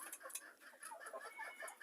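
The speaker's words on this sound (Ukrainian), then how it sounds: "Це Нью-Гемпшир півник" New Hampshire chickens, roosters and hens, cluck softly in a run of short overlapping calls, close by and fairly quiet, with no voices over them.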